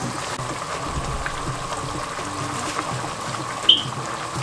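Water is poured into a caramelized palm-oil sauce for a Gambian fish, beans and cassava dish, making a steady hissing, trickling wash with one brief sharp sizzle-like spike near the end and no speech.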